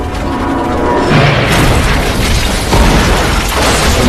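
A plane crashes into the ground in a jungle: a loud, heavy crash and booming explosion roar with dense rumbling noise that stays intense throughout, with no voices.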